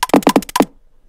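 Drum beat sample on an MPC pitched up about 28 semitones, a quick run of four or five bright, clicky hits in about two-thirds of a second, loud and alone, then silence.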